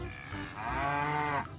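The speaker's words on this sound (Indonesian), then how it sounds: "Dan di dalamnya ini ternyata ada sapi perah ya ini." A toy dairy cow in a toy livestock truck gives one sustained electronic moo, close and clear, with no talk over it.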